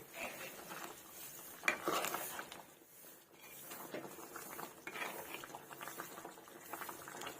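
A pot of egg and drumstick curry with raw mango bubbles and simmers softly nearby, a continuous low patter of boiling liquid throughout.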